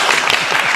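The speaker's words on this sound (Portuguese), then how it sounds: "Salva de palmas para a Isabela." Audience applause rises for Isabela in a brief, dense burst of close, steady clapping.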